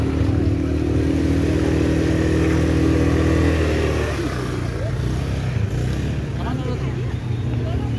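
Motorcycle engine idling and revving steadily at a tourist attraction in Bogor, Indonesia, a continuous loud drone that roughens and shifts partway through as people talk nearby.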